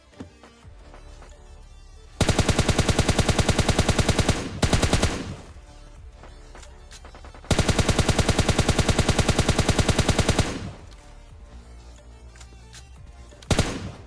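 Automatic gunfire in PUBG Lite: two long, loud sustained bursts of rapid shots, each lasting a couple of seconds, separated by quieter game ambience, with a short final burst at the end.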